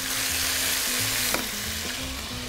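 Cuttlefish in their ink sizzle and fry in a pot on the stove, a steady crackling hiss with a few soft stirring knocks, close and continuous.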